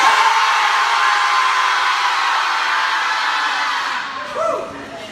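A fitness club group at an orientation event screams and cheers together in a loud, sustained roar that fades near the end, followed by a brief whoop.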